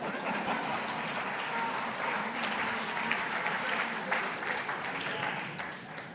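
A conference audience claps throughout, a dense, even wash of applause that holds steady and tapers slightly at the end.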